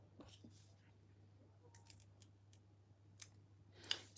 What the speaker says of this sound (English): why are you cutting the chayote vine?